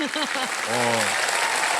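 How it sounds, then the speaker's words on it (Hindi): Studio audience on a game show applauding loudly, a dense wash of clapping filling the brief moment while a voice speaks over the start. "ऑडियंस ने बहुत जोर से ताली बजाई है"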